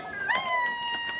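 A cat meows once, a clear rising-then-level call at close range with a light noisy background and no talking, heard on a rainy morning at a rural temple in Lampang, Thailand.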